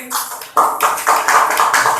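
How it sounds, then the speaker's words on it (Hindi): A crowd outdoors at a market claps for food shopkeepers, the clapping starting abruptly and carrying on as a loud, close, rapid patter of many hands with faint voices behind it. "चलिए लगाइए ताली इनकी।"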